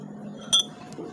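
A small metal cooking pot, a kaldero, handled with a single bright metallic clink near the middle, close and short, over a low quiet background hum.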